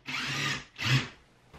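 Electric clippers trimming Wally the dog in a shop, two close buzzing bursts, the first longer, with a short gap and then quiet.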